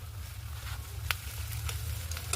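Onion, green chilli and ginger paste frying in a pan, a soft continuous sizzle with a few brief stirring clicks, close but quiet and heard alone.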